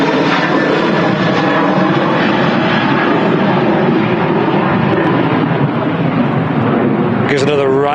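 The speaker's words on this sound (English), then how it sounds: "Here's another Ryanair." A Ryanair airliner roars steadily and loudly through the whole stretch, a broad continuous jet engine noise, with a voice talking over it and a brief higher sound near the end.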